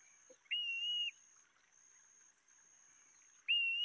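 Two sustained, mournful whistled notes from a shorebird in Trinidad, one early and one near the end, clear and fairly close over a faint steady background hiss.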